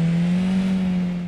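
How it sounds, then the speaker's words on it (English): A car engine in a video game gives a steady, loud drone that holds one pitch with a slight rasp, tapering a little at the end. "The car's got a bit of a, you know, quite a generic engine noise."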